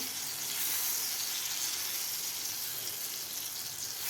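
Mango barfi mixture sautéed in a pan over low heat gives a steady, soft sizzling hiss that holds evenly throughout, with no talk.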